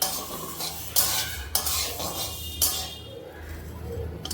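Moong dal dry roasting in a pan, heard as several scraping stirs with a spoon against metal and a dry rattle of grains, close and moderately loud, with no talking.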